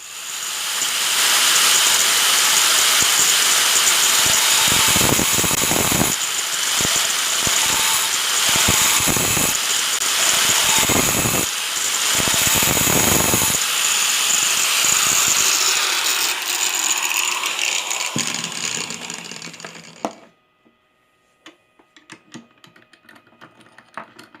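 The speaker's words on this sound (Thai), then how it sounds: "บากด้วยเครื่องเจียนะครับ" An angle grinder notching the tip of a long three-inch screw gives a loud, continuous grinding whine for about twenty seconds, dipping briefly in several places before cutting off abruptly into near silence.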